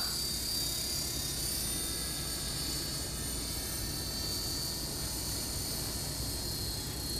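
An X400 RC helicopter rotor runs at full throttle in a steady, loud, continuous whir with a high-pitched whine on top, holding an even level throughout with no talk.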